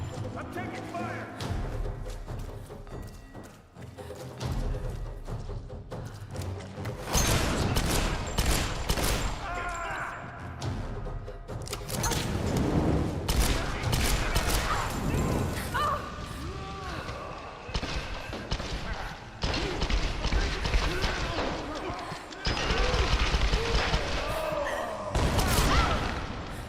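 Tomb Raider gunfire comes in dense rapid bursts and bangs, loud and continuous across the whole stretch, mixed with game sound effects and someone talking over it.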